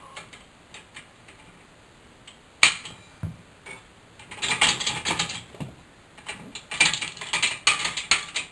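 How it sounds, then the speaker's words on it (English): A vise is clamped again on a metal workpiece, giving a series of sharp ratcheting clicks and metallic ticks that come in uneven bursts, close and fairly faint, with no talking. "pop the vise, bring it back to where the arch begins, and clamp it again."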